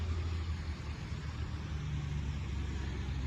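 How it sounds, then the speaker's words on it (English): Low, steady rumble of a truck engine idling on a street close behind, a continuous droning hum with no talking over it. "It's a little loud with the truck behind me."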